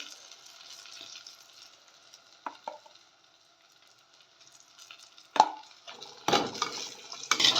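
Homemade spice powder fries in oil for oil brinjal kuzhambu, a faint steady sizzle joined by a few spoon knocks, then louder stirring scrapes near the end.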